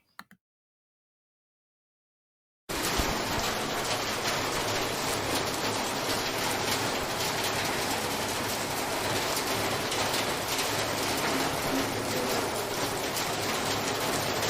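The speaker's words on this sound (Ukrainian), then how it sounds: "Так, звичайно, це був дощ" Steady rain falls alone for about twelve seconds after a brief silence, a dense, even hiss of drops pattering on a surface with no voices over it.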